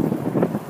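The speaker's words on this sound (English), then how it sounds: "Damn, it's windy." Wind gusting outdoors in Kuusankoski buffets the microphone, a brief low rumbling roar with soft swells and no voices.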